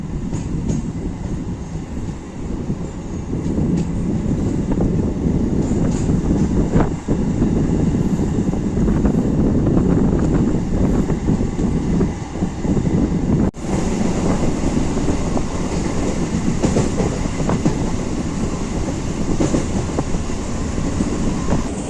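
A MEMU express train rumbles steadily along the rails, a dense continuous roar with faint rhythmic clatter, heard from inside the carriage.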